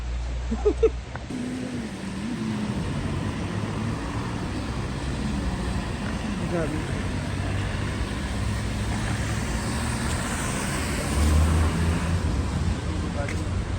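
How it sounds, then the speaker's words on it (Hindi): A continuous rumble of road traffic in a jam in Dubai during rain, with engines droning and passing vehicles, while people talk over it throughout. "ये पूरा देखो ट्रैफिक लगा हुआ है।"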